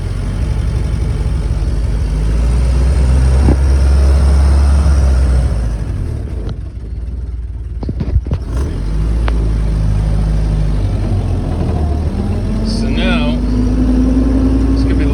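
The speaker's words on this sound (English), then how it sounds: "There you see the changes as I give it some acceleration." A Jeep engine running with its transmission swells in loud revs as the accelerator is pressed, then drops back toward idle before rising again, with someone talking over the engine.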